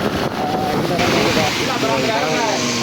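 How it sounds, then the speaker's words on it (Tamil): Storm wind with rain during a heavy downpour on flooded streets near a railway station in Jaffna, a steady loud broadband roar filling the whole clip with faint voices mixed in. "முழுக்க புயல் தான் அடித்து கொண்டிருக்கு. காற்று மழையெல்லாம் இருக்குது."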